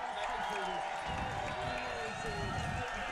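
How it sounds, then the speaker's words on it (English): A raucous stadium crowd roars continuously as the home rugby team, Old Glory DC, takes the field against Shannon RFC, with a commentator talking over the steady cheering. "this raucous crowd welcomes on their home team"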